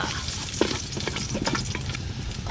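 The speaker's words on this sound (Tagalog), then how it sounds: "Okay, simulan natin to. Gisa muna tayo." Ginger and garlic sautéing in a pan, a steady close sizzle and frying crackle with light stirring scrapes, no voices over it.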